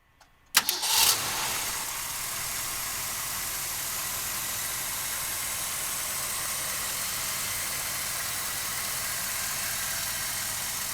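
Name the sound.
1967 Mercury Cougar 390 V8 engine starting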